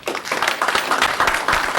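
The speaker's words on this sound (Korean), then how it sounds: "큰 박수로 강의를 시작하겠습니다." Audience applause greets a professor taking the stage for a lecture on appraising archaeological artifacts, a short burst of dense, steady clapping from a seated crowd.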